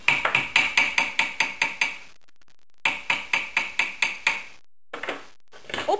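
Rapid metallic hammer strikes on a copper wire ring ring out in two steady bursts of about nine blows each, separated by a short pause, with a few lighter taps near the end.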